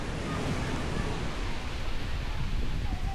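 Strong wind buffeting an outdoor microphone during a seniors' outing, a steady loud roaring rush of air with no break.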